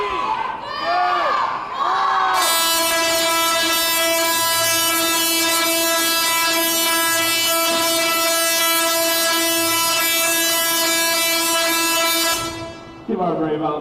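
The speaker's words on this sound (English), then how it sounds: "The next time our Tesla coil will discharge will be just about 30 minutes from now." A Tesla coil discharging at a science museum in Chicago, a loud sustained buzzing roar with steady harmonic tones lasting about ten seconds after brief crowd voices, cutting off abruptly at the end.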